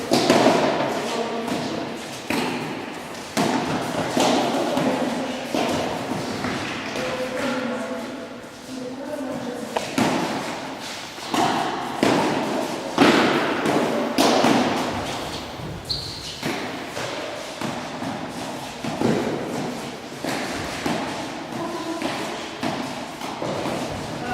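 During a Basque pelota game in a gym, balls land with repeated dull thuds and taps at an irregular pace. Players shout and talk throughout, and the hall echoes.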